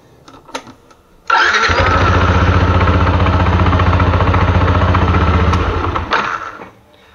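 A Yamaha NMAX 155 scooter with its kickstand down starts up and runs at a steady, loud idle for about five seconds before the engine cuts off, with no talking over it.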